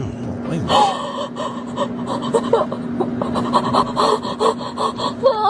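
Heavy, hot breathing from someone crying comes in ragged gasps and pants, close and continuous, mixed with whimpering sounds against a faint steady hum.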